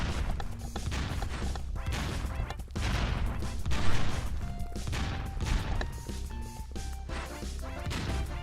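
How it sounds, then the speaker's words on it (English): Bombs explode in the BombTag video game, with a dense run of loud crashing and smashing blasts layered over one another, along with whooshes, keeping up steadily for the whole stretch. "Some of those bombs are pretty scary."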